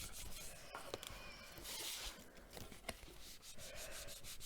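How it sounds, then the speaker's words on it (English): A bone folder is rubbed along a paper crease during card crafting, giving faint, close scraping and rubbing strokes with a few small taps. "I'm just going to find my crease and go in with my bone folder."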